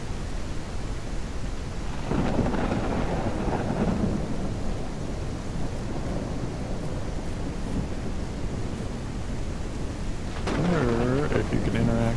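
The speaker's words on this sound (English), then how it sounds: "I don't like it when the storms are going off" Thunderstorm with steady rain in the survival video game No One Survived: a constant broadband rain hiss with low thunder rumbles swelling around the middle and again near the end, while a person talks over it.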